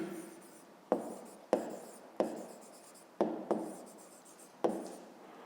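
Pencil or pen writing on paper in short strokes, each starting with a sharp tap and fading into a scratchy rub, about seven strokes in quick succession, close and fairly quiet, with no voices.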